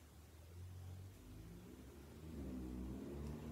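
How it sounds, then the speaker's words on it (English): Cars pass outside a home in Melbourne, heard as a faint, distant low rumble of engines that swells slightly toward the end. No one speaks. "you can hear some cars outside."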